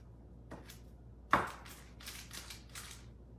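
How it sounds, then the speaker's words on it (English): A knife strikes a cutting board while mincing garlic in a home kitchen, one sharp chop followed by a quick series of lighter rhythmic cuts, close and fairly quiet. "Chopping, mincing this garlic"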